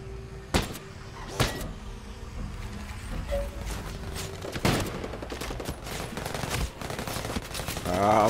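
Rifle gunfire in the video game Ghost Recon Breakpoint, sharp isolated shots and short bursts spaced irregularly over a low rumble of vehicle and ambient game noise, with a later stretch of rapid firing.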